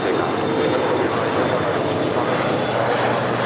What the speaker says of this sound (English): So the Korean Air Cargo will be departing on 25 right.